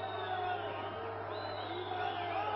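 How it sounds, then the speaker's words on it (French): A wrestling-show crowd in an arena whistles and boos at the wrestlers, a steady, dense roar of jeers with a few rising whistles carrying over it. "La foule les siffle à Guéret et Amor."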